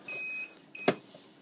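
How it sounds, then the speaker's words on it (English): Two short electronic beeps from a Megapos till receipt printer with its paper roll removed, followed by a sharp mechanical click, fairly close and clear in a quiet room. "The machine's beeping because I've taken the roll out."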